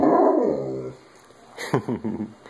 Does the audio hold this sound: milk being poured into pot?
no